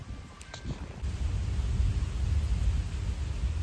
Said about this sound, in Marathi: आता इकडे पाऊस देखील पडत आहे